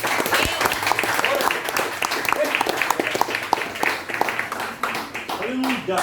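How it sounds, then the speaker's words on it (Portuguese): Church congregation clapping loudly and unevenly for several seconds, many sharp individual claps close by within a full room of applause, a voice briefly rising near the end. "Aplaudimos a Jesus que ele merece."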